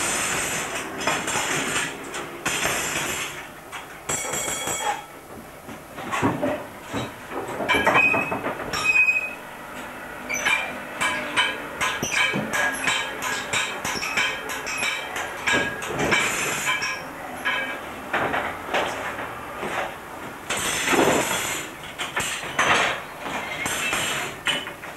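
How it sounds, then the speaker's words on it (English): A 1980s diesel multiple unit passenger train, likely a Barton-on-Humber to Cleethorpes service, runs along the up main line toward Grimsby Town. Rhythmic clickety-clack, rattling carriages and brief wheel squeals come close and loud. "This diesel multiple unit on the up main line, heading towards Grimsby town, was probably a Barton on Humber to Cleethorpes passenger train"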